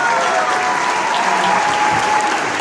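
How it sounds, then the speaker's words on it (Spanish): An evening audience gives a round of applause for the guitarists and percussionists, a dense, continuous wash of many hands clapping at an even, sustained volume throughout. "A nuestros músicos, guitarristas, percusionistas, por favor, un aplauso."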